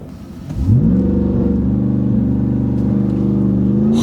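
A 2022 Ram TRX Ignition Edition pickup launching at full throttle, its engine rising from a low idle into a loud, close, sustained roar that keeps climbing steadily for several seconds.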